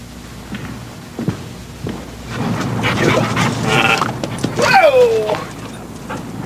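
Dog in an indoor scene with people talking over it, faint movement and a sharp yelp or whine near the end.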